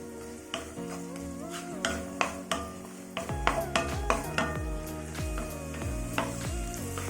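Cashews and raisins roast in hot ghee in a pan, a steady sizzle punctuated by a series of sharp spoon-on-pan clinks and scrapes as they are stirred.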